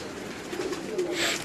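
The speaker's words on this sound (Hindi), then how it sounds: "जालों में भी कबूतर है" Pigeons coo softly on a rooftop among netting, a low, muffled burbling that stays faint and continuous under a steady background hiss, with no talk.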